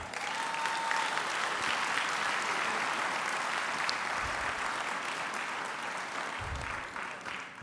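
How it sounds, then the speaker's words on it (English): Sustained applause from an audience at a fraternity gathering of Omega Psi Phi men, dense and steady throughout at a moderate distance, with a few faint voices underneath. "I think that deserves a hand clap."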